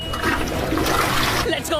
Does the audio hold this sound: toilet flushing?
yes